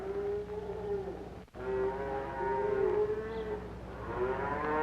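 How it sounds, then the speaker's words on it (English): Shorthorn cattle in a pasture give several long, drawn-out moos that rise and fall, overlapping one another at moderate distance with brief gaps between calls. "They're coming up with the pasture. They got the cows with them."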